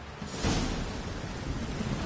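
Heavy rain pours steadily in a video game thunderstorm, with a deep rumble of thunder swelling near the start, a dense, close wash of storm noise throughout.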